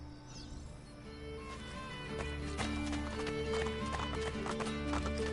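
A horse galloping in the Assassin's Creed video game, steady rapid hoofbeats over a low rumbling game soundscape with a faint whinny, fairly quiet overall.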